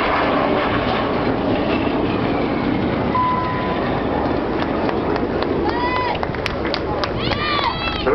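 RAF Red Arrows jets roar through a final display pass at the Bournemouth Air Festival, a loud, steady broadband rush filling the whole stretch, with a commentator talking over the noise and crowd sounds.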